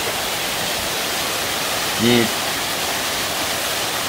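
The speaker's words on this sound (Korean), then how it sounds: "마지막 커다란 폭포가 나옵니다" Steady rushing roar of a large waterfall in Baegun Valley on Jirisan, a constant broad wash of falling water with a single brief voice cutting in midway.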